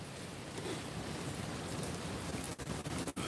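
Steady rain falls on a rainy day, a continuous soft hiss with no distinct drops, moderately quiet throughout with a couple of brief dips near the end.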